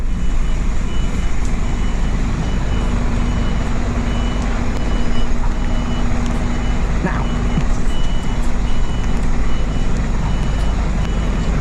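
A truck backing its trailer through a gate sounds a continuous reversing beep over a constant low engine rumble, with someone talking throughout.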